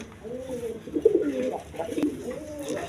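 Mosaldom pigeons at a market give soft, repeated low coos, close and steady, over a background murmur of the market.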